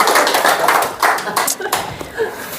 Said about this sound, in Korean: 박수 한번 해, 박수.